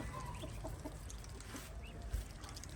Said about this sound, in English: You're not going to jump on that chicken, are you?